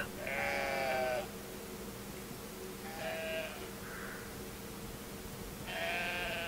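Sheep in the video game Brothers: A Tale of Two Sons bleat three times in wavering calls with several-second pauses between them, over a steady low ambient drone.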